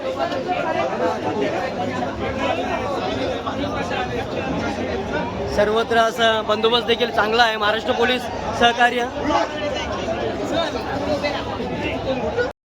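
A dense crowd of devotees at the Ekvira temple on a hill fills the air with loud, continuous babble and shouting, voices overlapping near and far while someone talks over the hubbub.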